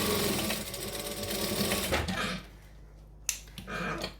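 A sewing machine stitches a pocket seam with a fast, steady whir for about two seconds, then slows and stops, followed by a few sharp clicks and handling noises.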